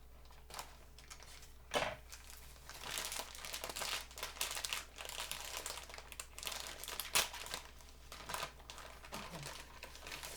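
A boxed strawberry cake mix package is torn and handled up close, with intermittent crinkling and rustling bursts of plastic and paper at low volume.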